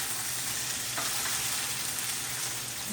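Breakfast food sizzles steadily in a hot pan while being stirred, a close, even crackling hiss with a faint scrape partway through and no voices.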